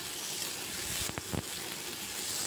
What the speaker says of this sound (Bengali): সব আলুগুলো দিয়ে এরপর আমি ভালো করে নাড়াচাড়া করে আলুর গায়ের জলটা মেরে নেব